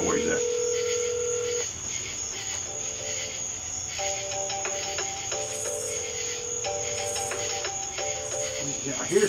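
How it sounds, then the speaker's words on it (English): Electronic phone tones play through a small speaker, a series of steady beeps at shifting pitches over faint background noise. "I hear his phone ringing."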